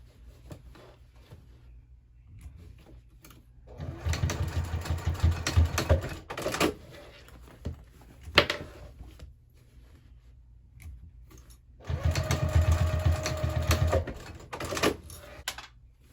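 A sewing machine bastes fabric with an eighth-inch seam allowance on a crossbody bag, running in two bursts of steady mechanical whirring a few seconds each, separated by quieter pauses with small clicks and handling noises, close by.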